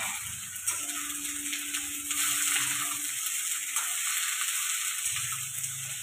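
Cauliflower and spring onion stalks frying together in a pan for vegetable fried rice, a steady broad hiss of sizzling at moderate volume with a faint tonal hum partway through.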